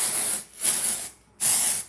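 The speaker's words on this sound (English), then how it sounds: "So we're going to dry shampoo his hair." Dove Refreshing dry shampoo sprayed onto a child's hair in three loud, close, hissing aerosol bursts of roughly half a second each, separated by brief pauses, with no talking.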